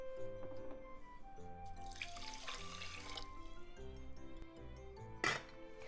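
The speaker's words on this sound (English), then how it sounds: "It's 2 cups of rice, so I'm adding 2 cups of water" Water poured into two cups of rice in a pot, a soft, faint splashing pour lasting about a second under quiet background music, followed by a light clink.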